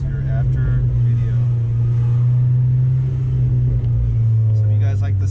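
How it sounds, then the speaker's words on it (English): A Stage 2 VW Golf R with a Forge diverter valve holds a steady, loud, close engine drone that swells slightly near the end, with talking heard over it. "if you guys like the sound of the Golf R"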